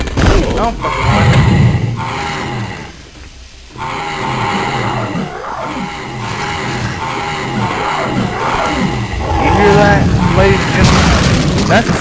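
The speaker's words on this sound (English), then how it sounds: "that's the sound of explosion, gory death, and that's the sound of a fucking demon rising up out of it." Loud explosion and gory death in Shadow Warrior Redux, heavy booming thuds and crunching bursts with a brief drop to near silence, followed by continued rumbling impacts and a voice talking over parts.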